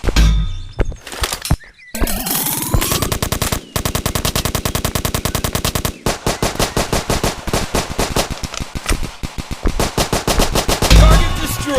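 Sustained automatic assault rifle fire in the Dude Theft Wars multiplayer shooter game, long rapid bursts of loud close shots with brief pauses between volleys.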